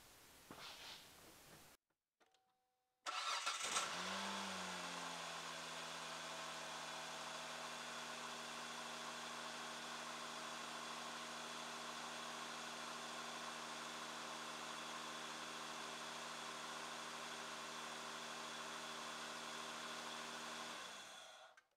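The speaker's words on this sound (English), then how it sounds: "Let's start it up and see if it's charging." A Kia Sportage engine, fitted with a new alternator, cranks briefly and then catches, settling into a steady, loud, close idle that hums evenly for about eighteen seconds before cutting off, with no talk.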